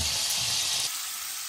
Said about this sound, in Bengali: চিংড়ি মাছ আগে এখানে একটু ভেজে নিই